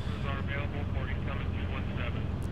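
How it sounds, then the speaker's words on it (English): A loud, steady helicopter rotor and engine roar in The Walking Dead game fills the whole stretch, constant and close, with no pauses or voices. "Look at the helicopter!"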